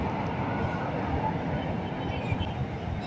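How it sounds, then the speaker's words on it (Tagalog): An LRT train rumbles past far below a 53-floor Makati residential rooftop, a steady low, continuous roar with faint rail clatter that holds even throughout, no voices over it. "Kaya sa baba ko, yan yung LRT."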